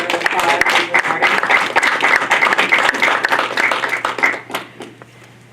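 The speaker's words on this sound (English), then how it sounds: "Give a round of applause." An audience at a school board meeting breaks into lively applause, dense clapping with some voices mixed in, tapering off toward the end.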